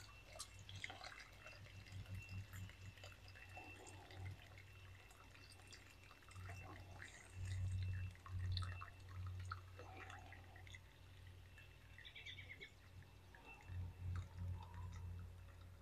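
Container plants in pots are being watered in a shady garden, with steady dripping and trickling of water onto soil and leaves, close by and fairly quiet over a low background hum.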